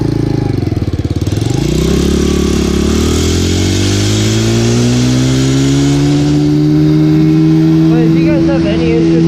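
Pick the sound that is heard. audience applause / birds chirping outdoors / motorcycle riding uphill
motorcycle riding uphill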